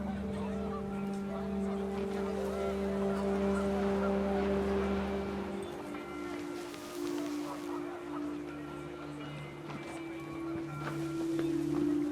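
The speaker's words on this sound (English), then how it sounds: "The wind picked up, and panicked geese appeared and quickly went." Panicked geese honk repeatedly in the video game What Remains of Edith Finch, a sustained blaring chorus of tonal calls over wind, with a narrating voice partly audible underneath.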